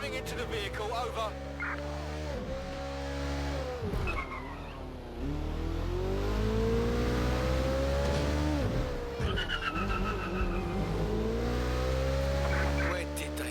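Car in the Watch Dogs: Legion video game driving with a steady engine drone, revving and tire squeals, while a voice talks over it.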